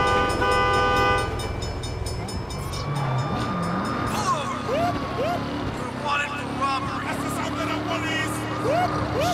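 Train rumbling past in the Saints Row (2022) video game, with a horn blaring at the start over loud continuous rail noise, layered with police sirens and chase sounds.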